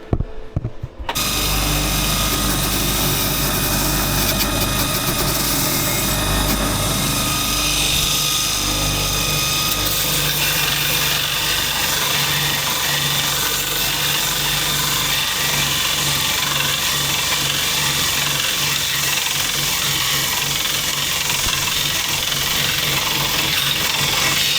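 Arc welding adds a reinforcing bead to a weak weld on a FIAT dozer, a steady close crackling buzz that runs continuously after a brief start, with no talk.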